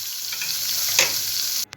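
Butter sizzles in a hot frying pan being readied for paneer tikka sandwiches, a steady close frying hiss that stops suddenly, followed by a light metallic tap.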